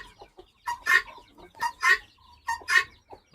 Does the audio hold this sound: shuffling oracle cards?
no